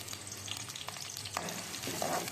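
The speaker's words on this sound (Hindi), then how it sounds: "घी गर्म हो चुका है, अभी मैं प्याज ऐड करूँगी" Onions frying in hot ghee for a mixed vegetable pulao make a soft, continuous crackling sizzle, fairly quiet and close, with a few faint utensil touches and no voices.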